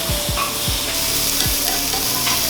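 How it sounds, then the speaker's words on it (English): Steak searing in a hot pan, a continuous close sizzle with a few sharp knocks and scrapes of the pan or utensil early on, no voices. "So once it sears of 3 to 4 minutes on each side, you want to see this nice sear."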